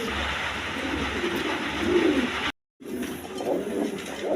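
A pair of Damascene pigeons of light Afsan Girizial colouring coo softly and repeatedly, close by, against a steady background hum, with a brief dropout midway before the low calls resume.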